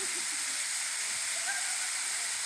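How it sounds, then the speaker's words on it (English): Waterfall in a North Carolina state forest, a modest falls that can be walked behind, giving a steady, even broadband rush of falling water, moderately distant, with a faint brief tone briefly rising over it. "It isn't a thunderous falls, but it's a pretty one, and if you're careful, you can walk behind the waterfall."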